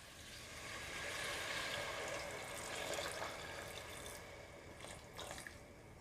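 About one and a half glasses of hot water poured into a pan of mutton curry, a soft, continuous splashing rush that stays fairly faint and close, tapering with a few small drips toward the end.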